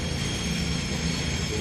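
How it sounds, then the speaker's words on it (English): Train passing near a station, a steady loud rumble of wheels and rail noise throughout, close by and unbroken. "There's a train going by."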